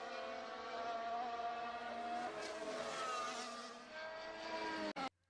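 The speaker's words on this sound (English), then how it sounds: "Now let's listen to a V6 hybrid." A Formula 1 V6 hybrid engine screams past at high revs, a buzzy whining drone with shifting pitch that holds loud, then fades and cuts off abruptly near the end.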